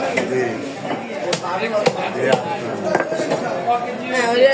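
A blade chops through a big boal fish at a live fish market, sharp heavy whacks landing at an irregular rhythm under steady talk and market chatter.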